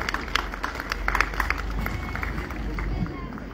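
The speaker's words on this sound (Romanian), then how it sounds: "Vă rog aplauze pentru cei care ne-au ajutat și ne-au susținut la realizarea acestui festival." A festival crowd at a Romanian summer fest in Nuremberg breaks into applause, a steady wash of clapping with scattered louder claps that holds for a few seconds and stays fairly even throughout.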